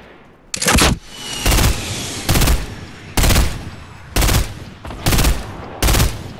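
Gunfire in Fortnite: six loud, near bursts of rapid shots, each about half a second long and evenly spaced, with a low rumbling hiss between them and no talk.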